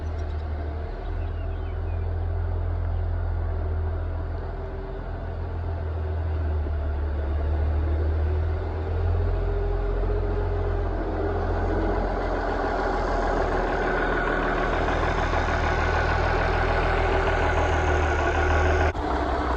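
International 966 tractor pulling a New Idea 5209 nine-foot disc haybine through a hay field, its engine droning steadily and loudly up close with a continuous low rumble and mechanical whir throughout, no talking.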